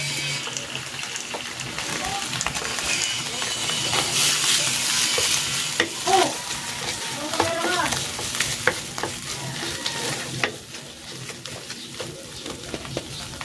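Tomato paste hits a hot pan for a Filipino pork rib sauce, giving a steady close sizzle with scraping and clattering stirring sounds over it and no talking.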